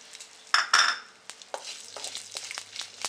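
Chilies dropped into hot oil for a fish curry, a sharp burst of sizzling at first that settles into a lighter crackle with a few clinks of a utensil, close.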